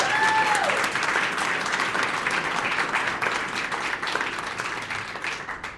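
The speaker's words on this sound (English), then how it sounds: "Can you give them a round of applause?" Audience applause at an AMCHAM Mauritius index book launch event, dense sustained clapping from a room full of people that starts strong and slowly tapers toward the end.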